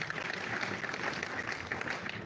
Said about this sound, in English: That hand clap for them.